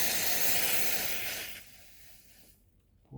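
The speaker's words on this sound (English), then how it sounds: "Ooh, watch out for that boiling." Boiling apple cider vinegar pickling liquid is poured into a mason jar of red onions, giving a loud steady hissing rush that fades out after about three seconds, ending with a soft clink.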